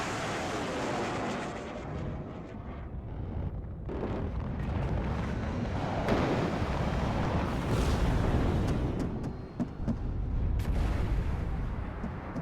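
Dense, continuous barrage of cluster bomb strike explosions in the video game WARNO, rumbling booms and crackling blasts overlapping steadily and loudly with no gaps, no voices.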